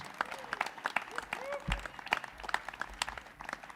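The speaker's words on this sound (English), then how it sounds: "Big round of applause for our Western States legends." Applause honours Western States 100 ultramarathon legends at a pre-race show, a fairly faint spread of clapping with scattered sharp claps and voices talking over it.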